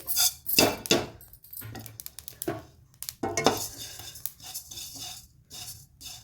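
Fennel seeds roasting dry in a pan for homemade pickle masala, giving scattered light crackles and pops with metallic clinks of a spoon stirring against the pan, close and fairly quiet.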